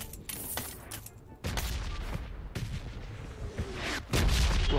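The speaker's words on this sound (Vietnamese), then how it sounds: "Bắn nhau gọi là không ngớt luôn." Sustained gunfire between teams in PUBG Mobile crackles as sharp shots and bursts, some near and loud, others farther off, overlapping almost without pause.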